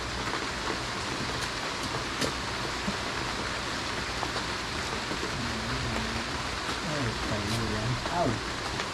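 Steady rain pours down in a dense hiss, with scattered drips and taps, while a person talks faintly in the background.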